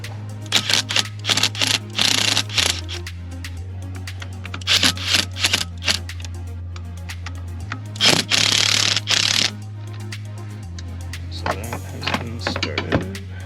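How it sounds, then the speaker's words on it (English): An 8mm Allen socket snugging down motor mount bolts on a 2019 Honda Civic during a Hasport mount install, heard as bursts of close, rapid ratcheting clicks separated by short pauses over a steady low hum. "I'm gonna get my 8mm Allen socket. Gonna snug these down."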